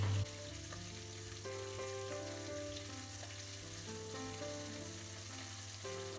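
Tomato paste and garlic frying in a pot for cassoulet: a steady, close sizzle over a low hum, with faint tonal clinks, and no talking.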